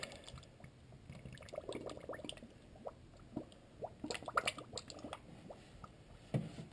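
Coolant poured into a car's cooling system during a thermostat replacement, soft gurgling trickles and irregular drips, quiet and close, with no talk.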